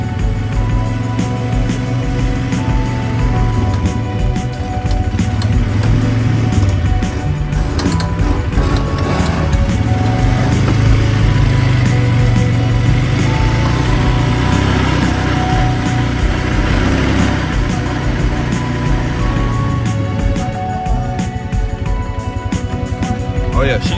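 A Polaris Sportsman 500 ATV engine runs steadily in low gear throughout, a continuous droning mechanical hum with a constant loud level.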